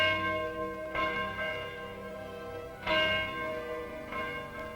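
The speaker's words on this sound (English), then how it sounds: "At precisely noon each day, this bell is rung." Large bell rung at noon, three resonant strikes spaced a couple of seconds apart, each ringing out with a long humming decay, moderately loud and alone.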